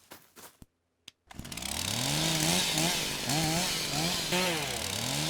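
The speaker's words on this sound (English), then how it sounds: "Anyone hear a chainsaw?" A chainsaw in the video game Amazing Frog starts after a short gap and revs loudly and steadily, its engine whine rising and falling in repeated throttle swells.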